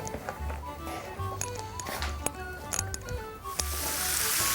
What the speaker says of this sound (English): we're going to continue frying yet still in the frying pan